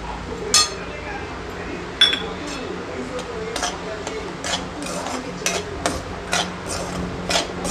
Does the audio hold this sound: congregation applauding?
no